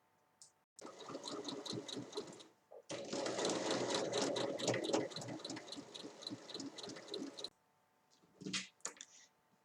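Sewing machine stitching the corners of a fabric storage basket, a steady rapid mechanical whir running in two long bursts with a brief stop between, fairly quiet and close.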